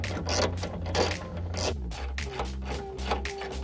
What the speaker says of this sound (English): place this 13 millimeter nut back into place. Make sure you tighten it really well